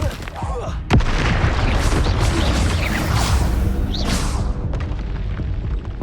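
A fire spell explodes in a Hogwarts Legacy battle, a sharp boom that swells into a sustained rumbling roar with crackling debris and scattered crunches trailing off over several seconds.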